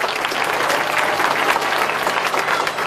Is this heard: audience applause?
yes